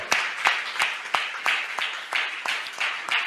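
A church congregation at a baptism service claps in a steady rhythm, with about ten crisp, evenly spaced beats, fairly close and alone.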